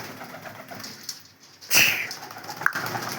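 Red-headed pigeons coo softly alongside rustling and faint patter, with a louder flurry partway through and a brief sharp sound near the end.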